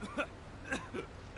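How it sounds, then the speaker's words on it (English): A game character in Devil May Cry 5 coughs three or four times, short and faint, in quick uneven bursts with no talk over them. "You can make him cough"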